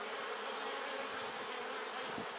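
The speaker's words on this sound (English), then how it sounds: "I'll let you look at the flyway here so you can see all the bees coming and going." Bees fly in and out of a hive entrance on a spring day, a dense continuous buzzing hum of many insects close by, steady and unbroken, with no voices.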